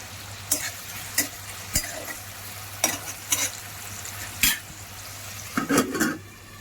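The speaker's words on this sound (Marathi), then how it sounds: "बटाटे तेलामध्ये शिजवून घेऊया। 5 मिनिटं मंद आचेवर झाकण ठेवून शिजवून घेऊया।" Sliced potatoes cooking in oil in a pan over low heat for a Maharashtrian snack, giving a steady soft sizzle broken by a few sharp scrapes and clinks of a spoon stirring against the pan, close and alone.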